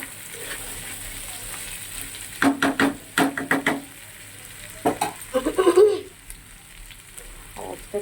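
Chutney sautéing in a pan gives a continuous sizzle, broken by bursts of spoon scraping and stirring near the middle and again toward the end. The sound is close and there is no speech.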